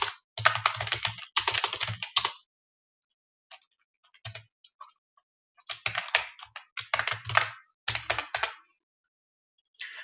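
Computer keyboard typing while writing C++ code, close and crisp, in several quick bursts of keystrokes separated by short pauses with a few isolated taps between them.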